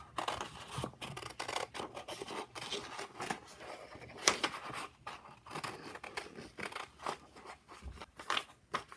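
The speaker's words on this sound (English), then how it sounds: "I'm going to cut out the paper pattern." Scissors snip through a paper pattern up close, with repeated crisp cuts and rustling paper in an irregular rhythm, no voices.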